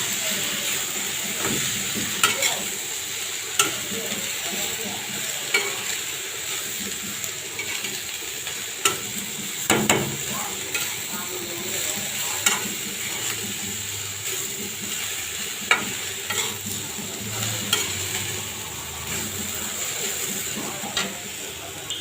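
Potato fry with turmeric and coriander powder gets stirred in a pan, a soft continuous sizzle punctuated by regular spatula scrapes and taps, moderately close with no talking.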